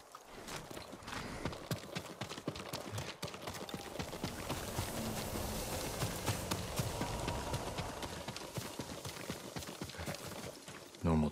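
Steady clip-clop of a farm horse's hooves walking in the video game Ghost of Tsushima, dense and continuous, with a busy layered background and some voices mixed in.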